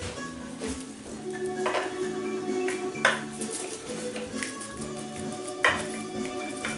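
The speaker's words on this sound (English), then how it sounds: "You get that bottom layer cut." A knife works through the bottom layer of baked spanakopita in a pan, giving intermittent metallic taps and scrapes against the pan over a steady low background hum, with two sharper clinks standing out.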